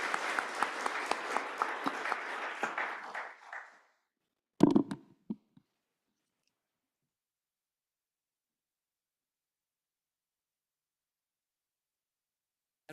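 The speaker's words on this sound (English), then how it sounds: "Let's give our panelists a round of applause." A forum audience gives panelists a short round of applause, about four seconds of moderate clapping that fades out, followed by a brief thump or two and then near silence.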